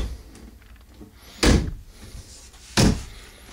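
An RV pantry cabinet door in a Wildwood 36BHBS travel trailer is shut twice, two short, solid thumps about a second and a half apart, close and clear against a quiet room.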